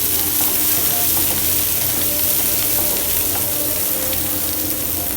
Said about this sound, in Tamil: கருவேப்பிலை சேர்த்துட்டு எல்லாத்தையும் நல்லா வதக்கி விட்டுக்கோங்க.